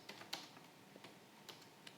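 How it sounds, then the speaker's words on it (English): Keys on a computer keyboard clack in scattered, quick taps while code is entered, a few sharper strokes standing out over a quiet room tone. "I am typing the value of x"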